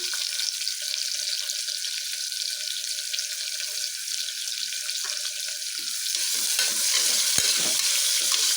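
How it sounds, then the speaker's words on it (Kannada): A cupful of onions frying in a pan for vangi rice bath, a continuous close sizzle that grows louder toward the end, with occasional scrapes and knocks of a stirring spoon and no talk. "ಈರುಳ್ಳಿ ಹಾಕೊಂಡು ನೀಟಾಗಿ ಕಳಿಸ್ಕೊಳ್ಳಿ ಚೆನ್ನಾಗಿ ಫ್ರೈ ಆಗಬೇಕು ಈರುಳ್ಳಿ"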